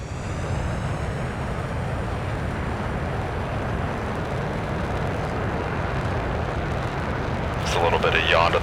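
Roaring jet engines of a twin-engine fighter in the flight game Flyout spool up for takeoff, a dense, steady broadband rumble holding loud throughout and swelling slightly at the end.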